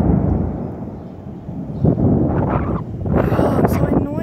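Thunder during a storm at Kambalda, with a low, rolling rumble that swells twice amid gusty wind buffeting the microphone and a voice heard briefly.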